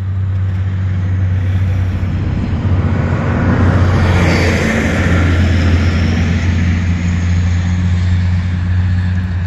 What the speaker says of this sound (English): That makes me happy that the fan motors are strong enough to lift this thing.